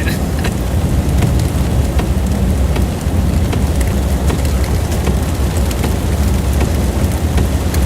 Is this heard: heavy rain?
yes